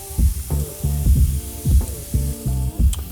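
Onions sautéing in a hot pan, a loud steady sizzle broken by regular rhythmic scraping strokes of a spatula, close up with no talking.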